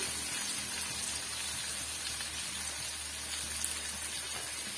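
Tomatoes sauté in a pan for a bitter gourd kuzhambu, producing a soft, steady, rain-like sizzle and crackle that stays faint and even, with no voices.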